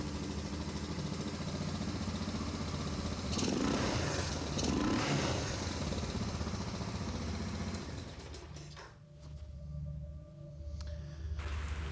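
A 1986 Honda Fourtrax ATV idles steadily nearby after a carburetor rebuild. Its low, even engine hum continues with a brief change partway through, and no one speaks.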